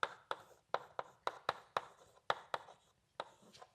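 Chalk or marker taps and strokes across a board while an equation is written, a quick irregular series of sharp, close, fairly quiet strokes with no talk.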